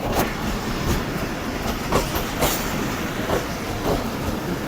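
An express passenger train with an SGM30 locomotive pulls into a station, its carriages rumbling steadily nearby with faint rhythmic clatter from the wheels and no voices over it.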